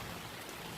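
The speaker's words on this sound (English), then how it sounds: "the rain still has not stopped" Steady rain falling outdoors on a late summer afternoon at a home workshop, a continuous broadband hiss with no distinct drops, fairly quiet and unbroken throughout.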